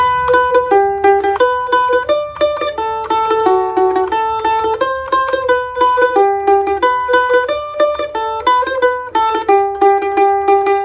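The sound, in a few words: mandolin playing Skip to My Lou with shuffle lick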